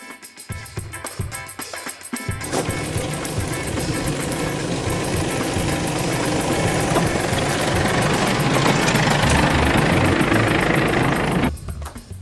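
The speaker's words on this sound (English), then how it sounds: "Climbing up a sandy trail poses no problem for the V-Cross in 4-wheel drive." Isuzu D-Max V-Cross 2.5 4x4 pickup climbing a sandy off-road trail in four-wheel drive, its engine loud and close, building from a quieter start into a sustained, steady drone for about nine seconds before dropping off abruptly.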